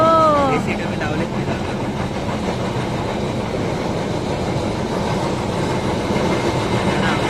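The Diva–Sawantwadi train rolls past near a Goa highway village in Sangameshwar. A loud continuous rumble of railcars with steady clatter runs the whole time, opening with a brief whistle-like tone.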